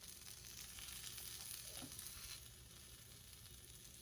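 Cheese-topped tortillas sizzle in a hot pan with a constant crackling hiss, fairly quiet and unbroken, with a faint scrape partway through.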